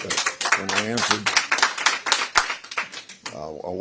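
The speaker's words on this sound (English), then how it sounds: "I'll wait till the clapping's done." Applause fills a congressional hearing room, with scattered claps rising and falling beneath a voice speaking over them at close range.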